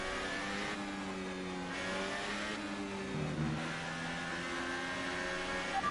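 Formula 1 race car engines in the F1 2018 racing game, at the French circuit, drone loudly and steadily, with shifting pitch as the car weaves to warm its tyres. No one speaks.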